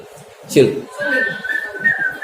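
A person whistles a sustained, fairly steady tone for about a second and a half, following a brief louder burst, with a voice faintly underneath.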